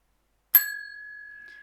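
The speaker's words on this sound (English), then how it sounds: "I haven't been ringing the bell, so we've made sure we've done that now." A single bell, likely a bicycle-type bell, is struck once and leaves a clear, bright ring that holds steady and slowly fades, heard alone in a quiet room.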